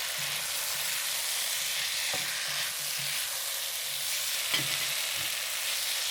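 Shrimp curry stir-frying in a hot pan, a steady loud sizzle and hiss of oil running throughout with a few faint utensil taps and stirring knocks, close up.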